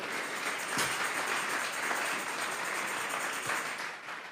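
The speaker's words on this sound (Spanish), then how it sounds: "¿Por qué no le regalamos una ofrenda de palmas al Dios de la gloria?" Church congregation at a Spanish-language sermon gives an offering of applause, a soft, steady wash of many hands clapping in a large room, with a couple of sharper claps and a slight fade at the end.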